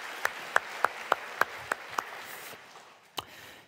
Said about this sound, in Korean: 우리 하나님께 영광의 박수로 찬양합시다.